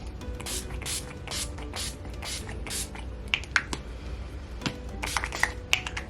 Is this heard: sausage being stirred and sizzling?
no